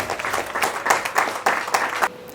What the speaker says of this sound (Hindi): तालियों से स्वागत कीजिए अनिल वत्स जी।